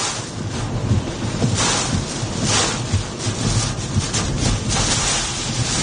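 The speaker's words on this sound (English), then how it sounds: "Here comes the wind" Strong wind gusts roaring during a South Dakota tornado storm, loud, continuous rushing with buffeting against the microphone and surges of rising intensity, no talking.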